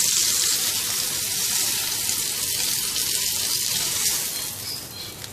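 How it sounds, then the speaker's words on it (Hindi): Kebabs shallow-frying in hot oil in a home kitchen make a loud, steady, close sizzle that crackles on without pause and eases slightly toward the end, with no talking. "एहतियात के साथ पलटते हुए हर तरफ से इनको फ्राई कर लेंगे।"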